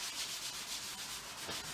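Cloth or brush rubbing warm reddish-brown paint across an abstract painting, a soft rhythmic scratchy swishing of repeated strokes, close and alone.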